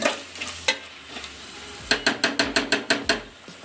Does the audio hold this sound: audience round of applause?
no